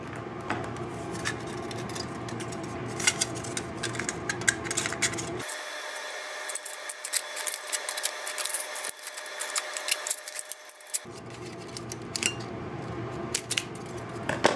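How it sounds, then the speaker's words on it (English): Scissors cutting a thin sheet metal piece for a homemade alcohol stove, a continuous close rasping and scraping with faint metallic clinks, briefly thinning to a quieter stretch midway. "And now basically just cut this out as straight as possible."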